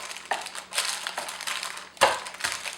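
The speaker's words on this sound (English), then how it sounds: "I'm going to use my wax paper, and I'm going to push it down." A glass presses a homemade granola bar mixture down through wax paper, producing a few crunchy, crinkling compressions in short irregular bursts, close and moderately loud.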